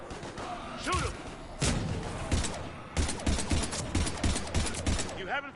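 Gunfire rings out in a combat scene from the game Mass Effect 3, with sharp single shots and rapid bursts over several seconds, mixed with thuds, mechanical clanks and shouting voices.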